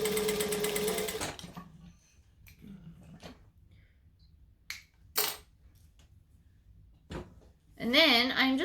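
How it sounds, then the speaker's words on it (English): A sewing machine runs a short burst of top stitching along the folded open edge of a fabric strip holding a D-ring, loud at the start and then stopping, with faint handling clicks and a brief voice later. "I'm just going to top stitch the open edge."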